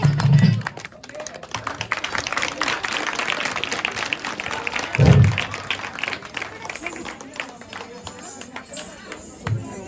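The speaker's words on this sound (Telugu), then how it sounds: "ప్రతి ఒక్కరు కూడా గట్టిగా చప్పట్లు కొట్టవలసిందిగా కోరుతా ఉన్నాం" Clapping from a crowd at a street festival dance performance in Eluru, a steady clatter of hands in a noisy open-air setting with chatter mixed in and a few low thumps.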